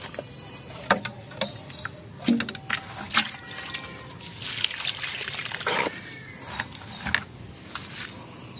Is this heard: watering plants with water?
yes